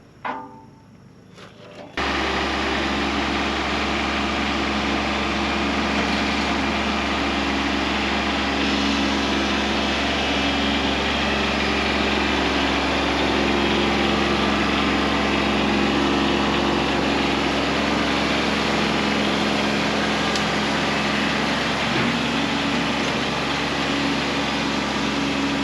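A Kubota B2601 compact tractor engine runs steadily while grading gravel with a Countyline 5-foot box blade, a loud continuous drone close by after a brief quieter start, with no talking.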